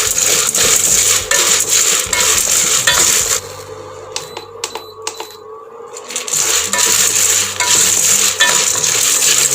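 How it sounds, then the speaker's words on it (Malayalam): Tamarind seeds (puliyavara) roasting dry in a pan for Palakkad-style Vishu kanji, giving steady rattling, clinking scrapes of hard seeds against metal, loud and dense with a brief quieter pause in the middle. "ഇനി നമുക്കിനി പുളിയവര നന്നായിട്ട് വറുത്തെടുക്കാം."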